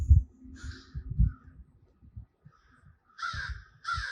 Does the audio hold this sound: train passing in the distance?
no